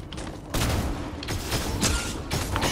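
Gunfire in Fortnite on PS5, repeated loud bursts of shots and impacts across a noisy battle, several volleys in quick succession.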